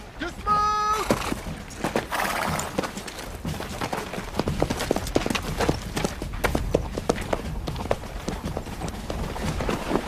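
Cavalry horses' hooves clop and shuffle on the ground in a 1997 film scene as soldiers dismount, a busy run of close, irregular hoof strikes following a shouted command.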